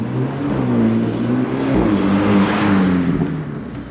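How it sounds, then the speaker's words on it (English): A Mini John Cooper Works GP3 of the F56 generation approaches with its engine revving, a loud steady exhaust drone that swells as the car arrives, heard alone without talk. "a buyer's guide on this particular generation of the Mini would not be complete without one particular vehicle, and here it comes now."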